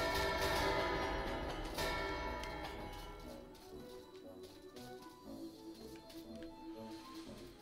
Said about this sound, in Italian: Suona la campana?